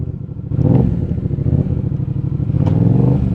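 A motorcycle engine starts up and settles into a loud, close, steady running note with slight revving, no talking over it.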